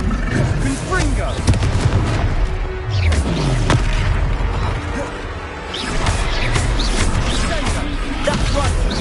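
The Confringo blasting spell in the video game Hogwarts Legacy, heavy booming blasts and crashing impacts recurring through a chaotic battle, mixed with game music, effects and voices shouting.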